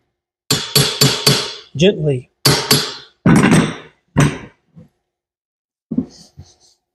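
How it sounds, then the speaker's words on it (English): Sharp metal hammer blows ring out on a Mustang's turbo, in a quick burst of four strikes followed by spaced single hits and a few faint taps, close and loud, with a brief spoken word among them. "I'm hammering on my turbo."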